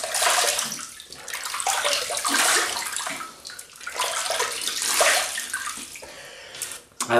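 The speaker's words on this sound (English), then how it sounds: "I'm going to wet my face, dip this in water and face lather" Tap water running and splashing in a sink as a face is wetted before shaving, a steady close hiss with surges and dips in flow, no talking over it.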